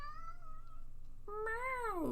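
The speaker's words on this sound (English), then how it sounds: "Meow. You can hear Layla, probably." A cat in the video game Detroit: Become Human meows up close, a long drawn-out cry with a rising then falling pitch, followed by a second, louder meow.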